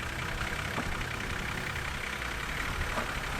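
A vehicle's engine idles on a drive, a steady low rumble holding at an even level with no talking over it.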